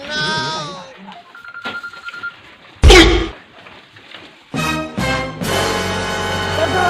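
A telephone ring tone sounds briefly, mixed with short musical stings and sound effects, while people talk loudly nearby in a rustic Awadhi comedy scene.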